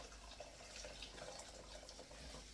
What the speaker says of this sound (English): Have some hot water there.